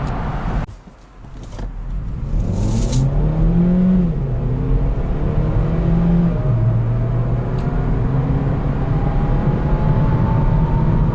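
A 2019 Hyundai Ioniq hybrid pulls hard from a standstill up to 100 km/h, its engine and motor note climbing smoothly through rising pitch sweeps, loud and steady after a brief quiet dip at the start.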